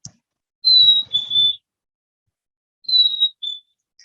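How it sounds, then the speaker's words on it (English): Chickadee whistling its clear two-note call twice, each a high steady tone stepping down to a slightly lower one, with a pause between calls and nothing else around. "First, we listen to the chickadee."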